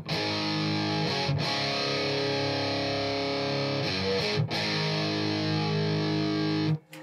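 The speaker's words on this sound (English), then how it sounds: "the Gonkulator has a built-in distortion pedal as well" Electric guitar played through the built-in distortion of a DOD Gonkulator pedal, sustained buzzy distorted chords ringing loudly, with two brief breaks where the notes are restruck before ringing on again.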